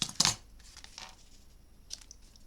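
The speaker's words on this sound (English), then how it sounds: "I'll just trim that off. I'll trust to my hands with scissors." Scissors trim paper for a mini album, giving a sharp close snip at the start, then softer faint cutting rustles in a quiet room.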